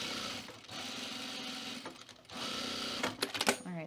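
A sewing machine stitches around the edge of a fabric book sleeve in rapid mechanical bursts, pausing briefly between runs, followed by a few clicks and a short bit of speech.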